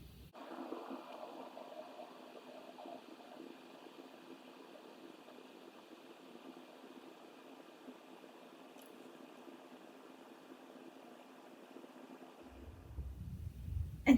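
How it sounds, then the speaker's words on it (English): Styrofoam ball dissolving in acetone gives off a steady, faint fizzing bubble hiss that runs continuously for most of the stretch, ending in a brief louder handling bump. "you can actually hear this bubbling, and we can see that our styrofoam ball that I added here is slowly disappearing"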